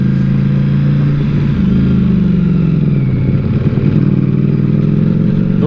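Inline-four sport motorcycles, a Kawasaki ZX-10R and a Suzuki Hayabusa, race together: a loud, continuous engine drone with shifting pitch and revving, close by, no talking.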